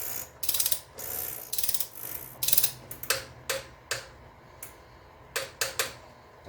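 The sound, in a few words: torque wrench tightening BMW E46 oil filter housing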